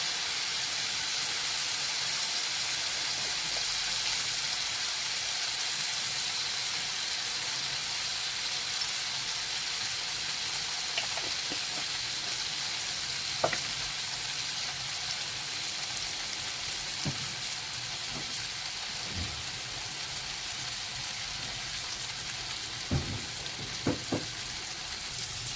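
Spice paste with chili powder frying in a pan, a continuous hissing sizzle throughout with occasional faint clicks of stirring.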